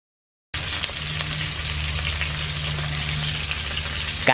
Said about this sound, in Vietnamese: Bây giờ mình bỏ vô, mình chiên sơ.